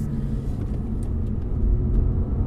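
A Polestar car drives at about quarter throttle with a low, steady road rumble and smooth, even motor hum from inside the cabin, swelling slightly toward the end.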